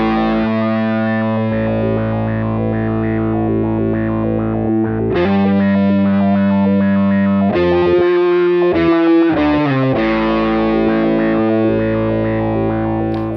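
Beetronics Zzombee filter pedal in mad mode, a randomized filter stepping on a low octave blended in parallel with a fuzzed instrument signal, producing a continuous distorted, shifting tone with abrupt filter jumps.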